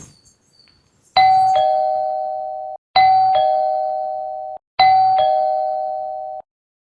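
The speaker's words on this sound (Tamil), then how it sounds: "எதுக்கு பெல் அடிச்சீங்க?" Electronic doorbell at a home entrance rings three times in a row, each a loud, clear ding-dong tone that sustains and then cuts off, with a short pause between rings and no speech.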